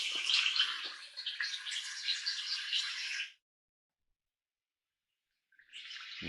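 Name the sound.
woodlands ambience sound from a tinnitus relief app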